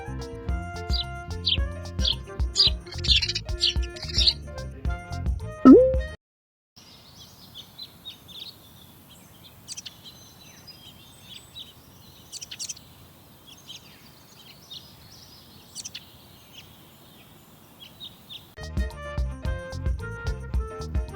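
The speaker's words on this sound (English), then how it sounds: "Sparrow." Sparrow chirping in a farm setting, a run of small scattered high chirps and tweets, fairly faint, heard alone between stretches of bright music.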